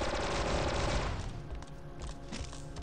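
Blaster gunfire in the Star Wars Republic Commando video game, a dense loud burst of rapid shots for the first second, then thinner scattered firing and impacts continuing.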